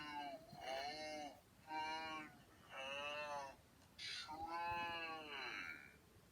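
A TalkBack screen-reader voice pitched down and processed to sound demonic speaks in several drawn-out, groaning bursts with pauses between them, fairly faint and alone.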